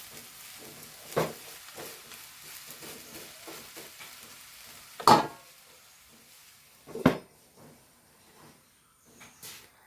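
Taro leaf thoran (chembila thoran) is stirred in a pan: soft, quiet scraping and a faint sizzle, broken by a few sharper clinks of the spoon against the pan, with no talking.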